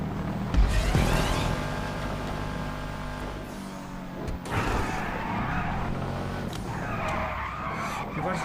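A car in a GTA 5 video game race skids with a loud tire screech near the start, then the engine keeps revving and whining through further sliding, with someone talking over it.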